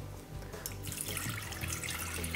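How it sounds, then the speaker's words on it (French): Spring water poured steadily into a container, 500 ml going in with a continuous liquid rush, close and fairly loud with no talking. "Donc je mets 500 ml d'eau."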